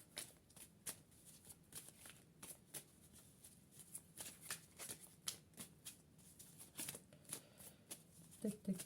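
Tarot cards being shuffled by hand, a rapid series of soft papery flicks and riffles repeating steadily at close range, with a faint low murmur underneath.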